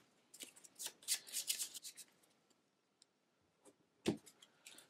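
Playing cards are shuffled back into a deck during a tabletop card game: a quick burst of riffling, crisp flutters close up, then a brief lull with a few soft taps and another sharp riffle near the end.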